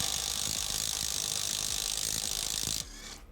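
A TEENO 320Nm brushless impact wrench runs in a sustained rapid hammering rattle, loud and close, then abruptly cuts out near the end as the motor winds down, with no talking.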